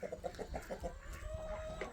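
Chickens and a rooster on a small homestead in the woods cluck in a quick run of short, soft calls at close range, with faint background noise.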